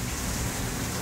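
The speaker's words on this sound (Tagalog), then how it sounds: "Lakas ng ulan at kidlat." Heavy rain pours in a dense, unbroken roar with low thunder rumbling beneath, loud and close throughout.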